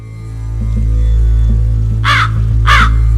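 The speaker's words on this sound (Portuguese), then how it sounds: "um espírito do mal na forma de um corvo aparece ao comandante Expedito e começa a gritar a palavra cras" A crow caws twice in quick succession, loud and close, over a low steady hum, used as a sound effect in a telling of the story of Saint Expeditus.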